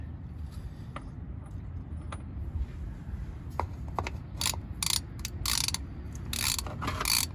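A ratchet loosening the transfer case drain plug on a 2019–2022 RAM 1500, a series of close, sharp metallic clicks in bursts over a low steady background hum.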